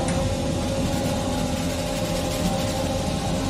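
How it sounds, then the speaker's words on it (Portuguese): A Honda Formula 1 engine in the F1 2020 racing game at the Belgian Grand Prix gives a steady, loud, droning hum with little variation, continuous throughout and with no speech over it. "E motorzinho Honda, hein?"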